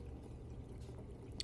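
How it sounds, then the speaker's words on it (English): Washing machine running in the background of an old basement workshop, a steady low churning and sloshing rumble with a faint click near the end. "washing machine's going pretty good in the background"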